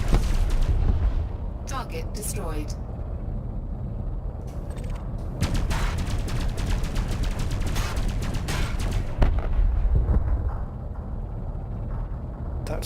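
Ship cannon fire in the space combat game Elite Dangerous, heavy booming blasts over a constant engine rumble, with a voice speaking briefly.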